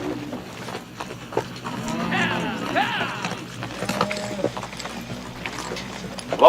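A ridden horse's hooves clip-clop at a steady walking pace, with voices talking over them and some rustling around.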